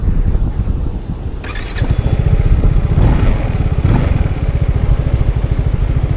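A motorcycle engine idles close by with a steady, rapid low chugging pulse, preceded by a brief clatter as it settles.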